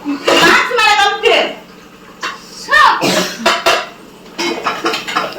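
Old brass and metal pots and vessels clatter and clink as they are handled at home, the metallic knocks mixed in with people talking over them.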